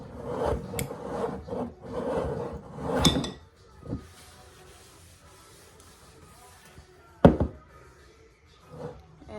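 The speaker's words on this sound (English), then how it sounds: "let me clean the sides of my jar up" Someone scrapes the inside walls of a glass sourdough starter jar in short, uneven strokes. The close rasping and rubbing come in bursts with brief pauses and a sharper knock near the end.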